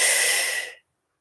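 A single close, breathy exhale through the mouth rushes out for under a second and then cuts to silence.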